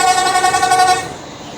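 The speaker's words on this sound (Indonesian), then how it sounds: "Oke, lanjut untuk klakson 1," Loud, close blast from a Hino bus horn, one sustained rich multi-tone honk that cuts off after about a second.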